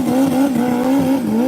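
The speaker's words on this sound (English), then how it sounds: "Jamie Lopes' bike breaking up a little bit" A GSX-R drag racing motorcycle at Rockingham Dragway roars loudly during a run, its engine note wavering and stuttering as it breaks up, close and continuous.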